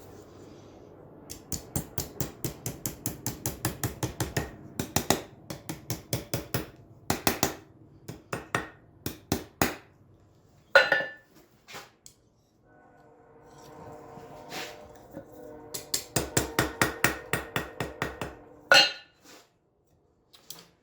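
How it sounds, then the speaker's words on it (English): A steel rail spike being hammered over the edge of an anvil: bursts of rapid, ringing metallic strikes with short pauses between runs, close and loud. "I'll just put it over the edge of the anvil and 90 it"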